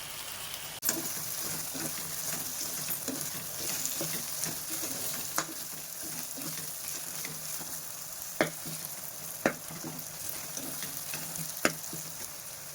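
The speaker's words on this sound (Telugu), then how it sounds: "మసాలా వేగిందండి. కరివేపాకు వేసుకోవాలి." Curry leaves crackle and sizzle in hot frying masala for an Andhra-style country chicken curry, a steady close sizzle with occasional sharp pops and stirring clinks.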